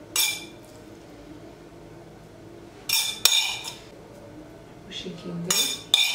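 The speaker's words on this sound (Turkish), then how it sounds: "hazırladığım kıymadan şöyle birer kaşık hafif aralıklı olacak şekilde koyuyorum" A metal spoon clinks and taps against a pan or bowl in several short bursts as spoonfuls of minced meat are set onto rolled dough, with a brief spoken phrase in between.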